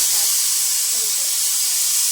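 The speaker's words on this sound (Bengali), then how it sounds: "এখানে আমি সোয়াবিন ভাজছি" Soybean chunks fry in a pan with a continuous, even hiss of hot oil that stays at a constant level throughout.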